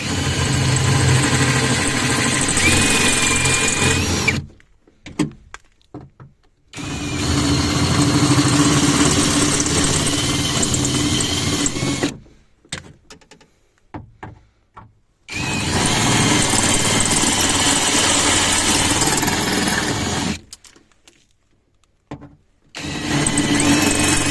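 Loud, grinding power drill drills out hard metal rivets on an Opel Vectra C front window regulator in three long bursts separated by short pauses, with clicks and clatter between them.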